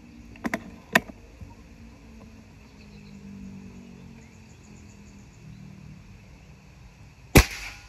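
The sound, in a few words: air rifle shot hitting target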